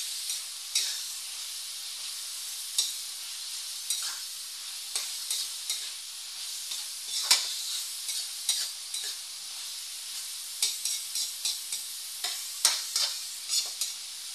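Ingredients sautéing for pancit bihon give a bright, continuous sizzle up close, broken by repeated quick utensil scrapes and stirring clacks in an irregular rhythm, with no talking.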